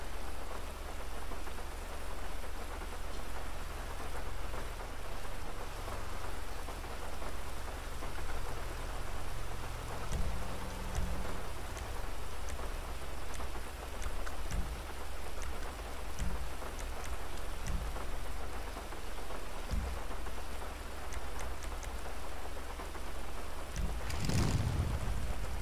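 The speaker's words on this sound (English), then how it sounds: "It's fucking raining out" Steady rain patters on a parked car with its engine running, a dense, even wash of drops under a low rumble, with a few louder taps and a brief burst near the end; no voices.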